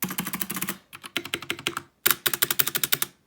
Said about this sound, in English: No rattle whatsoever, no matter where I click it.